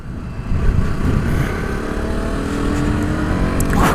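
A KTM Duke 125 motorcycle rides through city streets, its small single-cylinder engine giving a steady, close drone with slight rises in pitch as it accelerates, no voices over it.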